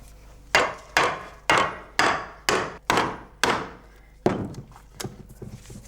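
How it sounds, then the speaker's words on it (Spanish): Steady series of sharp hammer blows driving two-pointed nails to join the wooden board sections of a wine barrel head, about seven evenly spaced strikes followed by a few lighter knocks. "prepara los fondos del tonel uniendo varias tablas con clavos de 2 puntas llamados fitas"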